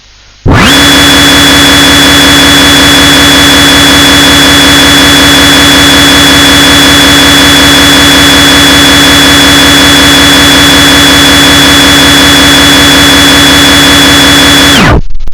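A CNC machine spindle spins at 900 RPM in a mechatronics workshop, a loud, constant mechanical whine and hum that starts abruptly and holds steady before cutting off near the end.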